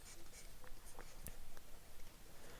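Faint close scratches and taps of writing on a board, soft and intermittent against a hiss of background noise.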